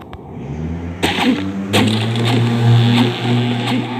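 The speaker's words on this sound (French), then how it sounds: "Si vous entendez le bruit de moto, désolé." A motorcycle engine revs up loudly nearby, its pitch climbing and holding as it passes, with a few sharp clicks at the start.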